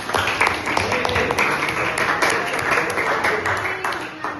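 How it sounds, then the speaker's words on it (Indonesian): A classroom of students claps for a classmate during a lesson, a lively burst of many hands with distinct sharp claps standing out, close and continuous. "Tepuk tangan untuk Dimas."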